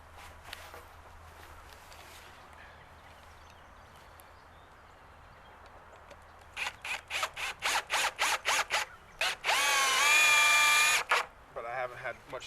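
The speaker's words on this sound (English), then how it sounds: "I'm gonna put two screws in" Screws are driven into a greenhouse door with a power drill. After quiet handling noise, a close run of short whirring bursts ends in one longer, louder spin and a final few quick pulses.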